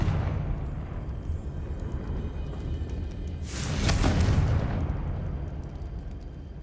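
A Confringo fire spell explodes in Hogwarts Legacy, a single loud burst near the middle that stands out over a steady bed of game ambience and then fades.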